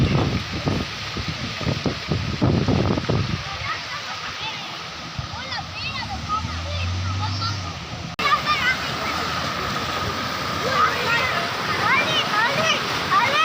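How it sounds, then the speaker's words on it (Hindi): Floodwater rushing and splashing through a flooded village after heavy rain, a continuous watery roar with louder splashes early on, while people talk over it. "अभी अचानक हमारे घरों पे पानी आ रहा है"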